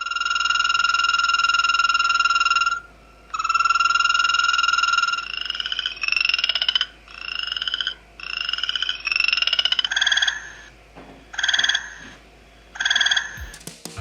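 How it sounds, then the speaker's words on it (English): Frogs and toads call in a series of loud, sustained tonal trills and croaks, first long unbroken calls, then shorter repeated bursts with brief gaps, close and clear over a quiet background. "You can also listen to the calls of different frogs and toads to observe who is in your neighborhood."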